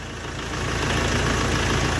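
A Dongfeng 404 tractor's diesel engine running while driving, a steady low rumble that swells slightly and holds, close and continuous with no talk.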